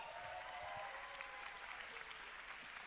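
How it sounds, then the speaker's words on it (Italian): An audience applauds at the opening ceremony of the Locarno film festival, a dense, even patter of clapping heard from a distance throughout. "Buonasera Giona, questo applauso è tutto per te."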